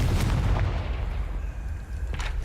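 A Confringo blasting spell in Hogwarts Legacy goes off as a sharp booming explosion with a crackling tail, followed by a lighter blast near the end; no talk over it.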